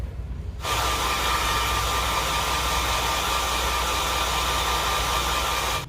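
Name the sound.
hair dryer running on low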